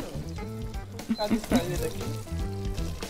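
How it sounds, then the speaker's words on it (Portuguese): Paprika sauce for pork loin sizzling and bubbling in a pan, a fizzing crackle running under a conversation between people cooking, with a few louder bursts midway. "A gente tem a panela ainda, não? Tá queimando aí, hein, Sandrinha?"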